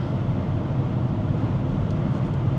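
A BMW X7 M50i cruising on a highway at about 1500 RPM in eighth gear while towing gives a steady, dense low rumble of engine and road noise, constant and unbroken throughout.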